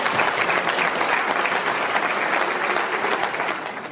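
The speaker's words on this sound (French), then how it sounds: "je voudrais que vous l'applaudissiez" An audience applauding at a Hilloula for Rabbi Haim Pinto in Marseille, thick continuous clapping from many hands, loud and close, tapering slightly at the end.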